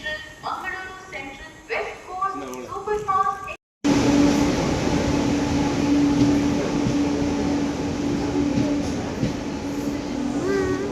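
A train waiting at the fourth platform of a station, heard as a loud steady rumble and hum with a faint tonal whine. A voice talks briefly before a short gap, then the rumble carries on alone.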